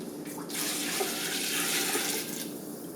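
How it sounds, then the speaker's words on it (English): Water pours into a cooking pot for gumbo, filling it about halfway, a steady splashing rush that starts abruptly, holds for about two seconds and then eases off. "the water I'm adding now is for the gumbo to begin cooking"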